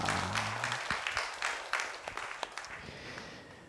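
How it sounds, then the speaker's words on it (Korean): A church congregation gives applause of praise after a Korean sermon, a modest burst of clapping with audible individual claps that slowly thins out over a few seconds. "하나님께 영광의 박수를 드리겠습니다"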